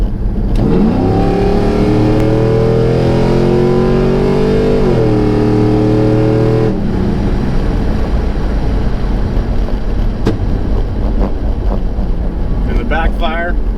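A 1998–2002 F-body car with a 3600 stall converter revs hard and accelerates, its loud engine note climbing and then dropping off, followed by rough idle with sharp pops and crackles near the end, under steady wind noise.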